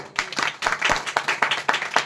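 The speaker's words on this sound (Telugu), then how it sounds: "ఒకసారి కొట్టు, చప్పట్లు కొట్టు." A congregation clapping hands in quick, steady rhythm at a village fasting prayer meeting, a series of close, sharp claps roughly four per second.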